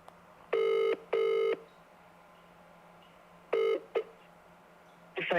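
Touch-tone telephone dialing for a sales call to a lead: two long keypad tones, a pause, then a shorter tone and a brief beep, clear and close with no talking.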